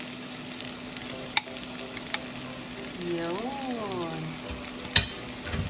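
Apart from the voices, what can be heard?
tofu (tokwa) frying and being stirred in a pan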